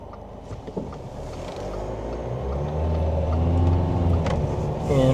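A JAC T9 ute with an 8-speed automatic gearbox drives in normal mode, its engine drone and road rumble heard from inside the cab, steadily growing louder as it picks up speed.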